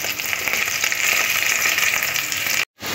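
Fish roe fritters fry in hot oil in a pan, giving a loud, steady close-up sizzle that cuts off abruptly near the end before resuming.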